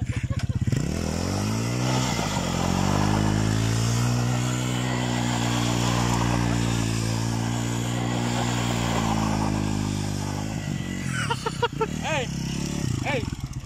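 A motorcycle engine runs close by, climbing in pitch, holding a steady drone for several seconds, then dropping away, with people talking over it throughout.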